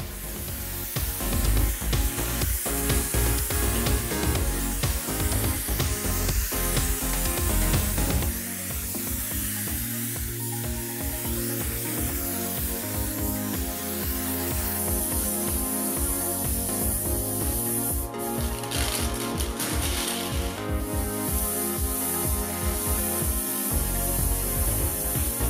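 Spray gun laying down HS race clear coat on a car panel at reduced pressure, a steady continuous hiss running for the whole stretch with a brief change in tone partway through, no voices.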